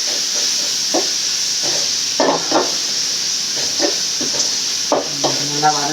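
Sizzling from masala for a Sankara fish curry being sautéed in a pan, with a steady hiss and occasional scraping stirs. A voice speaks briefly near the end.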